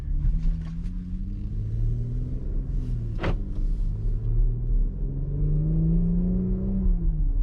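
A car fitted with cheap knockoff exhaust parts drives along, its engine drone rising and falling steadily in pitch with a brief whooshing rush partway through. No one speaks.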